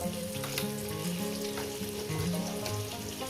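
Potato pieces fry in a pan for a fish-head and cabbage dish, giving a dense, even sizzle with bubbling crackles and faint stirring, no voices.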